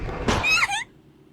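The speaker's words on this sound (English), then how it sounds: "dull thud followed by silence" A loud, dull thud from the horror game Corpse Party: Book of Shadows, a single heavy impact with a brief resonant tail that drops off into near silence.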